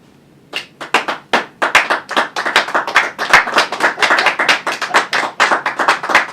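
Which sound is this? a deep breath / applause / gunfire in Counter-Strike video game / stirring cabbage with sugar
applause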